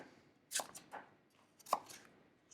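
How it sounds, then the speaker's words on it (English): An apple being roughly chopped with a knife on a cutting board, a few quick, quiet, close chops spaced irregularly, no voices. "just rough chopping because everything is going to get blended up"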